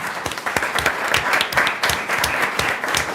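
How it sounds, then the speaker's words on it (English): A school board business meeting audience claps for high school principals, a steady wash of many hands with individual sharp claps standing out, fairly close and sustained throughout. "So I want you to stand so we can give you applause."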